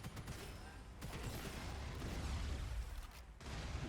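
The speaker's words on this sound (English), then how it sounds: "There's a lot of explosions happening." Dense, rumbling explosions and bursts of gunfire from combat in the video game Gunfire, a continuous loud barrage with heavy low booms throughout.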